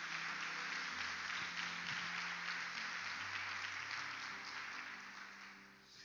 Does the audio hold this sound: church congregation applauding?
yes